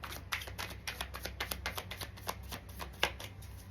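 Tarot cards are shuffled by hand in a quick, even run of riffling flicks, close up and without talk, ending with a slightly sharper snap.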